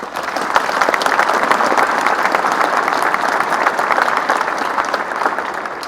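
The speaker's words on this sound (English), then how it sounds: "Give them a round of applause." Steady, dense audience applause at a ribbon cutting ceremony for the Skydome, a sustained roar of clapping that holds at full strength for about six seconds with no speech over it.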